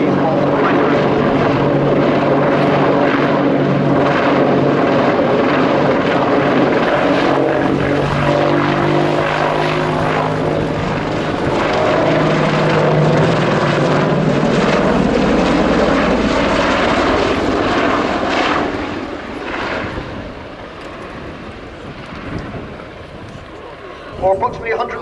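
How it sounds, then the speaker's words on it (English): An Apache attack helicopter hovers and manoeuvres at an air show at RIAT, its loud rotor and engine drone filling the air and shifting in pitch before fading toward the end, with a commentator talking over it. "you can see the Apache's powerful hover performance"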